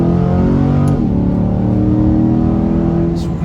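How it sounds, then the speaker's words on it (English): McLaren 720S V8 engine pulling hard on a back road, a loud steady drone with rising harmonic tone as it accelerates, heard from inside the car. "That V8 is a great sound and it's very responsive"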